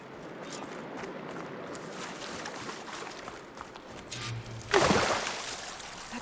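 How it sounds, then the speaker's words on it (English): Water flowing inside a room in the video game Horizon Forbidden West: a steady, soft rushing wash with gentle sloshing, and a louder splashy surge near the end. "Aloy, I can hear water in the room again."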